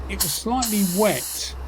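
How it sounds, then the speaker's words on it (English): An Iwata LS400 1.3 spray gun sprays base and clear coat in close, loud hissing bursts, with a voice-like tonal sound running through the middle. "you'll see the spray out pattern now"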